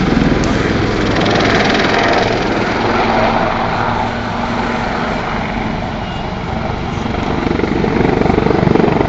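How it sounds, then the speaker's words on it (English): Lynx helicopters of the Black Cats display team at the Duxford air show produce a loud, continuous rotor and turbine drone that stays close and steady throughout. "The aircraft are now positioning themselves for some precise hover manoeuvres."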